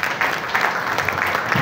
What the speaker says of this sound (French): Donc, je vous applaudis avec force